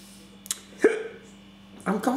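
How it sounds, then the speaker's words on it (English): Hiccups from a man reviewing a bottle of Adnams Southwold bitter, with two or three short, sharp hiccup jolts spaced across a couple of seconds, close to the microphone and otherwise quiet. "I've got hiccups, I haven't even had a swig yet"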